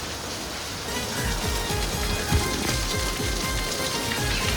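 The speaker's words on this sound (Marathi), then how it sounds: "पाऊस एकदम डेंजर आहे इकडे का." Heavy rain pours down in front of a seaside home: a dense, constant roar of drops hitting surfaces, close and loud, with no voices.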